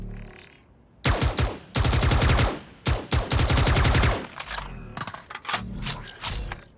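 Protocol skin weapon in Valorant fires in several sustained full-auto bursts, loud and close with a sharp rhythmic rattle, separated by brief pauses and mechanical clicks, ending with shorter scattered shots.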